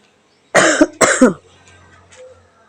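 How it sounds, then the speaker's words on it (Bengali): Two sharp, loud coughs in quick succession from a person indoors at a home puja gathering, followed by a softer throat sound and quiet room noise. "কাশি হলো কাশি লাগলো"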